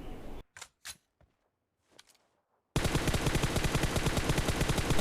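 Sustained automatic gun spray in a shooting video game, a dense rapid burst of loud shots running continuously after a few sharp clicks and brief sounds over near silence.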